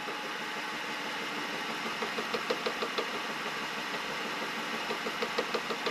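Machine tool spindle spinning steadily at about 720 RPM, a continuous mid-pitched mechanical hum with faint rhythmic ticking in its second half, moderately loud and heard alone without speech.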